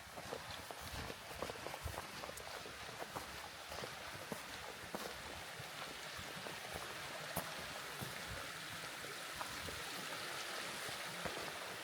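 A creek stream flowing steadily beside a hiking trail at dusk, a broadband watery rush running continuously throughout, with scattered footstep-like crunches and small knocks layered over it as someone walks along.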